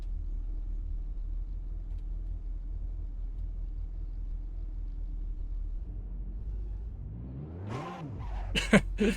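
A car engine drones steadily while driving in the racing game Assetto Corsa, then rises and falls in a quick rev near the end. A few sharp bangs follow, and no one speaks.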